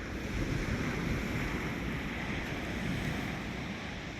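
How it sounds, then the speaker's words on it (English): Ocean waves rolling onto Myrtle Beach at sunset, a steady broadband wash of surf mixed with wind buffeting the microphone, continuous and unbroken with no voices. "here's the ocean. Here's the beach."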